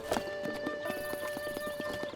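Horse hooves clip-clop in uneven steps along with a short whinny in The Legend of Zelda: Breath of the Wild, layered over game music with its tonal notes, all fairly close and clear.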